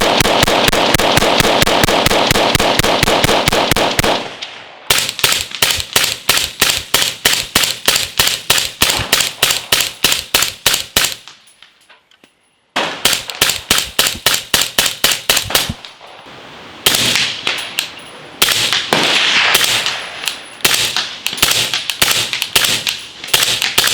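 Rapid bursts of gunfire from a firearm fitted with a Viper CQB stock, loud and close, with strings of fast shots broken by short pauses and a brief silence midway.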